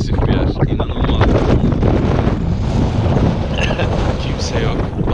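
Strong wind on a deserted hilltop buffets the microphone, a constant blustery rumble with gusty bursts throughout.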